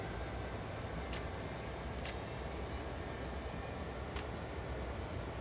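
Locomotive rolling along in Train Sim World 5, a constant broadband rumble of wheels on track with a few faint clicks and squeals, steady throughout and without talk.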